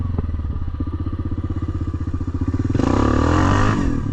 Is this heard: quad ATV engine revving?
yes